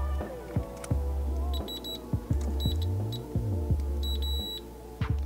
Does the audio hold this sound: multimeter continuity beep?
yes